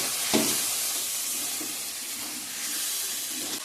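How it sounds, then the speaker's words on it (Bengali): Spices with ground cumin and coriander are sautéed in a hot pan, giving a loud, steady, close sizzle and hiss throughout, with occasional soft scraping as they are stirred and no talking. "জিরার গুঁড়া দিয়ে দিলাম ভালো করে কষিয়ে নেব"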